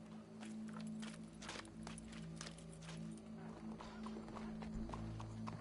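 Steady clip-clop of horse hooves walking at an even pace in Red Dead Redemption 2, quiet and continuous, with a low hum in the background.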